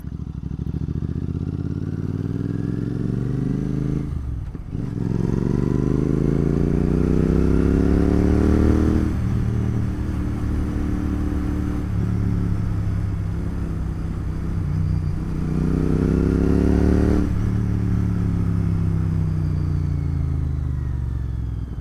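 A GT 650 motorcycle rides along a rough road at night, its engine rumbling close and steady, dipping and rising again as it changes gear three times.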